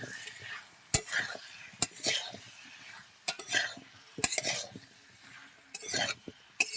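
A utensil scrapes and stirs taro with spices in a pan, giving intermittent clinks and knocks against the metal over a faint sizzle. The sounds come close and irregular with brief pauses between strokes.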